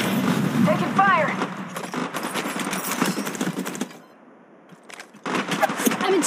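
Rapid bursts of automatic gunfire in the mobile game Apex Legends Mobile, loud and dense with sharp repeated shots, a brief lull near the end before firing resumes, with in-game voice lines heard over the shooting.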